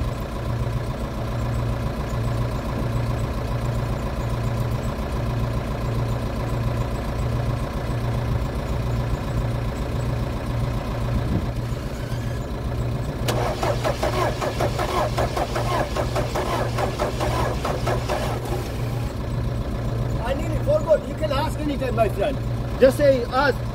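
A diesel engine cranks over and starts, then settles into a steady low idle, close and loud, while people chat over it.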